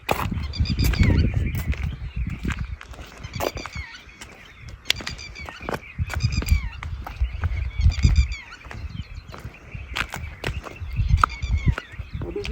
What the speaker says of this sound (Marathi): वेगवेगळ्या पक्ष्यांचे आवाज येताना आपल्याला दिसत आहेत